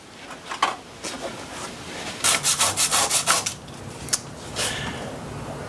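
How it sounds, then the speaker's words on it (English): Rapid bursts of abrasive rubbing on a Ford Ranger truck's engine bay firewall, a quick run of sanding strokes in the middle, with short scrapes before and after. "So I'm still sanding the firewall so I can get it painted before the engine goes back in."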